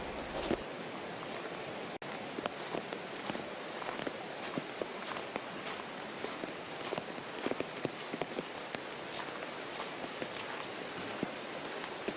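Steady rain falls on a valley campsite in Gapyeong beside a mountain stream, a dense hiss of drops pattering on nearby surfaces with scattered sharper taps throughout, no voices.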